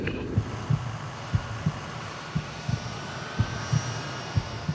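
A military aircraft landing on a runway: a steady, broad engine roar with a rhythmic series of low, dull thumps pulsing through it.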